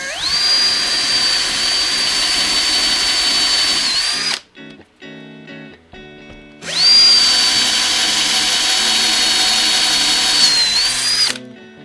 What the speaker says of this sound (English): I'm just going to drill down to 10